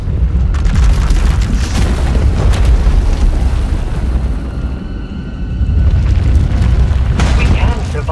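A runaway power surge erupting inside an asylum in Star Wars: The Old Republic, heard as a loud, sustained rumbling roar with deep booms. It eases briefly midway, then swells again.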